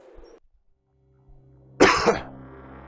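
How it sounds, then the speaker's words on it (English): A single close, harsh cough bursts out of near silence, with a second smaller cough right behind it before it fades into a faint hum. "Perfect time for coffee, right when I have to cough."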